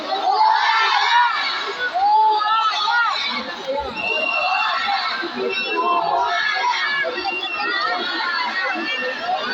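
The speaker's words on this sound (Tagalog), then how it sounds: "Sana makarating doon yung sigaw nyo. Isa pa, sumigaw ulit." Crowd at an election rally shouting loudly in unison, a dense mass of raised voices and cheers that swells and holds for several seconds.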